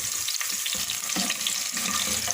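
Onion frying in a pan, cooked only until lightly pink, gives a steady, loud, close sizzle with soft crackling throughout and no voices.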